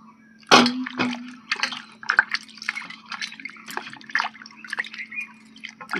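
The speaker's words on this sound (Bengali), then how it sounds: "কাঁচা আমটাও ধুয়ে নিচ্ছি।" A raw mango is washed under water, with close splashes and drips sounding in irregular bursts over a low background hum.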